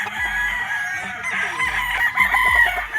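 A six-month-old gamecock rooster, an SBR crossed with Gilmore, crows loudly and close on a gamefowl farm. Its repeated calls carry over faint background clucking and farm noise.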